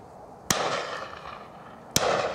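Two sharp gunshots fired at birds flying overhead ring out about one and a half seconds apart, each a sudden crack followed by a short fading echo in open air.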